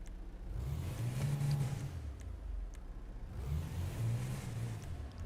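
A car in GTA Online fitted with an Elephant exhaust, its engine revving in two rising and falling surges at moderate distance, a steady low drone between them, no talk.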